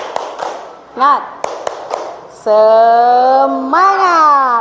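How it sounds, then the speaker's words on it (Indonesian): A school group performs a tepuk semangat clap chant, with a few sharp rhythmic hand claps followed by voices chanting together loudly and close. "Sekarang kita tepuk semangat dulu biar lebih enjoy nggih"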